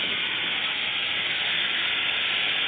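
Chicken pieces sizzle on a hot grill pan set over the flame with no oil, ghee or fat, giving a steady, loud, unbroken hiss that lasts the whole moment without any talk.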